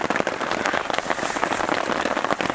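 Heavy rain pours steadily onto a surface during a kayaking trip down the Petawawa River, a dense, close, continuous patter with scattered sharper drop hits and no talking.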